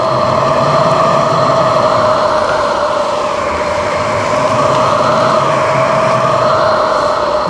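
A Tesla Model 3/Y pedestrian warning speaker emits a steady, loud tonal hum while the car drives, with a slight rise and fall in pitch over constant road noise.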